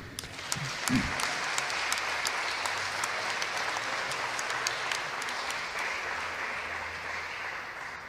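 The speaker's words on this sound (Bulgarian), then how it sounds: "Да чуем аплодисменти за абсолютно всички, които харесват и подкрепят българската независима музика." An audience applauds throughout at a national music awards ceremony, the steady clapping loud and continuous for several seconds, with a brief low murmur near the start.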